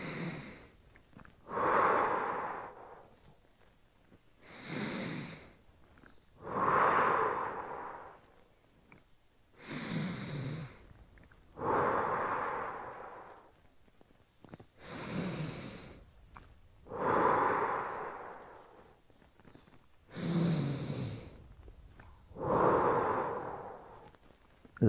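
Slow, deep breathing during a standing side-stretch exercise, five long rhythmic inhale-exhale cycles, each a drawn-out airy whoosh close to the microphone, with quiet pauses between them.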